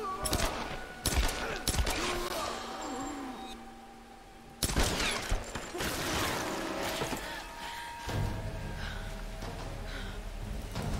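Gunfire in Tomb Raider (2013) comes in bursts of rapid shots and sharp cracks with heavy combat noise between volleys, loud and close, then fades into quieter action.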